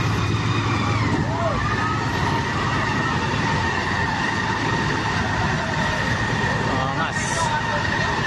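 Fire truck sirens at a building fire in Arca South, Taguig City, sound as steady, wailing tones over a constant rumble of street noise, with people talking close by throughout.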